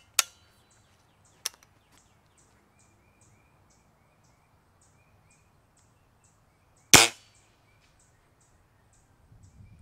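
Weihrauch HW97K .177 spring-powered air rifle firing: a few sharp, isolated cracks from the spring plant, the loudest near the end, set against a quiet outdoor backdrop with faint bird calls.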